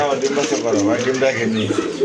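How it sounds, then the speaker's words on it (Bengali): Big silver grizzle pigeons coo in repeated warbling calls, close and fairly loud, while people talk nearby. "খুবই সুন্দর বিগ সাইজের কবুতর"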